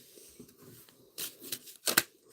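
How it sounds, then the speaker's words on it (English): A deck of Magic the Gathering cards being shuffled by hand at close range, with a soft riffle followed by two sharp, crisp bursts of cards snapping together. "So give it a shuffle."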